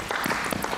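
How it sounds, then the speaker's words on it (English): A brief burst of clapping from a small group at a town council work session, honoring a departing councilmember; dense, steady hand claps close by with no talk. "I want to give you a hand of applause"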